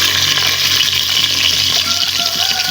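Water being poured into a cooking pot over raw meat while making tinola, a steady rushing, splashing pour that runs without a break, close and fairly loud, with no talking.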